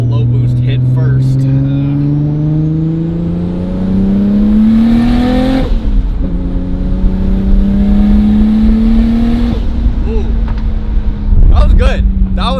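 A Nissan R32 GTR engine pulls hard on low boost, its note climbing steadily in pitch through the gears with brief dips at each shift, loud and close throughout.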